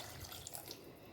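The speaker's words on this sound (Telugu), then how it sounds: "1 గ్లాసు ఉడికేదానికి వాటర్ పోయాలండి." A glass of water pours into a pot of broad bean and fenugreek curry, a continuous splashing rush alone at close range.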